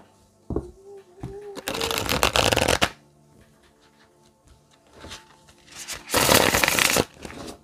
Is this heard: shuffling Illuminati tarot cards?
yes